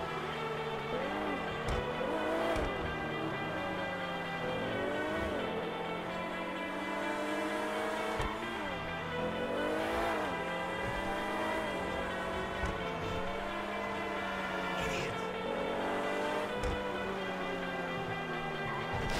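A vehicle engine in a video game runs steadily, its pitch swooping up and down as it accelerates and turns, fairly quiet and with no talking.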